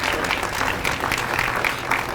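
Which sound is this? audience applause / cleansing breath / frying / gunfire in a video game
audience applause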